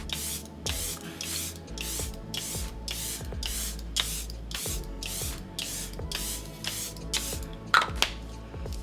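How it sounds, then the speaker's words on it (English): A makeup setting spray misting the face in about a dozen sharp, evenly spaced hissing bursts, close and fairly loud, with nobody speaking. "we're gonna just give ourselves a good misting here"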